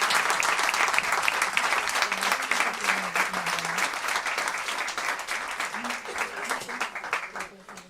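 An audience applauds at a book launch, sustained clapping from a sizeable crowd that holds strong for several seconds, with faint voices in the background, then thins and tapers off at the end.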